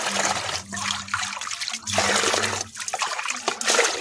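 Sour curd poured onto chilli plants, a close, continuous wet trickling and splashing with brief pauses between pours.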